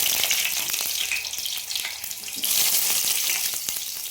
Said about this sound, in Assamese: আলু অলপ ভাজি ল'লোঁ